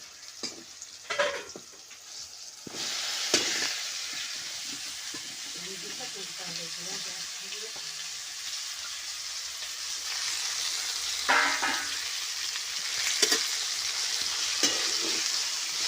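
Cut okra tossed into hot oil with cumin and turmeric sizzles steadily and close up, with sharp clatters of stirring and a brief voice in the background.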